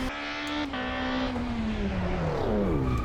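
A BTCC touring car in a Pikes Peak hill climb racing game decelerates hard, its engine note falling steadily in pitch over a few seconds, loud and close, with a short gear-change blip near the start.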